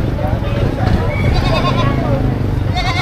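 Goats bleat amid the bustle of a Philippine livestock market where cattle, goats and carabao are sold, their calls rising over a dense, steady crowd murmur and nearby voices talking.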